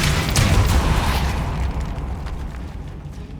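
Depulso spell cast in the video game Hogwarts Legacy, a loud whooshing burst that hits at once and then fades into a rumbling tail over a few seconds, with no voices.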